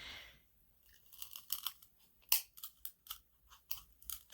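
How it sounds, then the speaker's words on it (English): Scissors snip through thin sticks to trim off the excess on a handmade Christmas name tag ornament, giving a short run of sharp, close crunching cuts spaced irregularly, with no talking. "And then I'm going to take my scissors."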